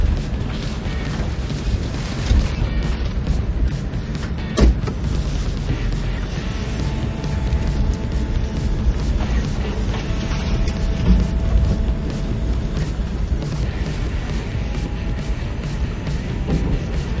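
A full-size Ford Bronco driving down a rough off-road trail near Trillium Lake, a constant low engine and drivetrain rumble with occasional knocks and jolts from the terrain, close and steady, no talking.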